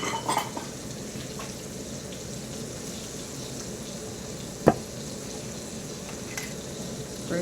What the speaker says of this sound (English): While that is melting and sizzling all over the place